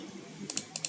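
A run of crisp keystrokes on a computer keyboard while writing PHP code, five or so clicks in quick succession after a quiet lead-in, close and fairly soft.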